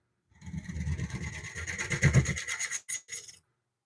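A scraper cuts into a hard wood bowl spinning on a lathe, giving a steady close rasping scrape that builds for about three seconds, then breaks off briefly and returns before stopping.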